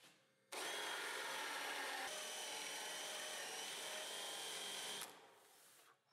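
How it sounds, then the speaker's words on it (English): A double taper sanding disc sanding the ends of wooden drawer fronts for a chest of drawers, heard as a loud, steady motorized whir with a grinding abrasive hiss that starts abruptly and winds down after about five seconds. "this just sands the ends perfectly"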